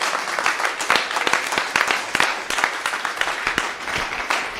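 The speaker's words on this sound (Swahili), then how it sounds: "Makofi mazuri." A church congregation at a Sunday service applauds, with many hands clapping in a fairly rhythmic, sustained burst that stays strong and steady throughout, with no talking over it.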